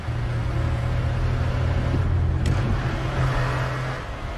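Car driving in a movie scene, a steady close engine drone with a brief rising rev midway, continuous and fairly loud with no talking over it.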